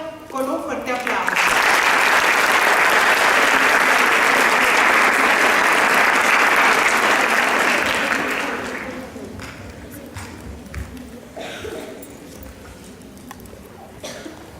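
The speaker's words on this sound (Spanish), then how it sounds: "Entonces vamos a recibir a Claudia con un fuerte aplauso." An audience claps in loud, sustained applause lasting several seconds, then the clapping thins out into scattered claps and faint murmurs as a voice begins.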